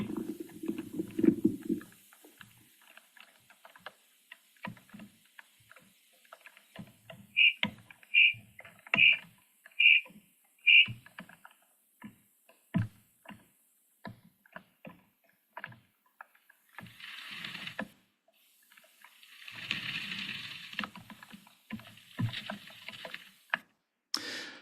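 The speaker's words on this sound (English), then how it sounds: "this is just some recordings compiled together from standard agricultural and garden soil" Compiled recordings of sound within standard agricultural and garden soil: sparse faint clicks, ticks and soft crackles scattered over near-silence, with a short run of evenly spaced sharp ticks and brief low rumbling bursts; no talking.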